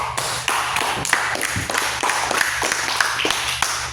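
Applause in a classroom, a group of students clapping in a dense, continuous patter with sharper individual claps standing out, steady throughout.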